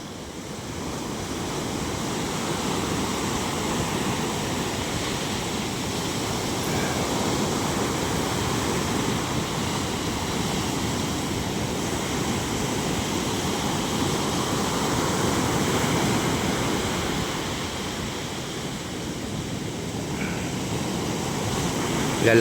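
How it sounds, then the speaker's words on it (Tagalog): Ocean surf rolling onto an eroding beach at Bucana, whipped up by strong monsoon winds: a steady, broad roar of waves with gusts of wind noise, continuous and moderately loud with no voices. "Lalaki pa rin ang alon. Lakas pa kasi ng habagat."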